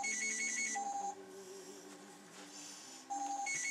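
A telephone rings in a taxidermy workshop: a faint electronic ring in repeating bursts of high beeping tones with short pauses between them, with no one talking.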